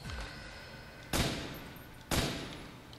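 A gun firing in Call of Duty Nazi Zombies, Nacht der Untoten map, with two sharp, loud gunshots about a second apart, each followed by a short ringing decay over a low background hum.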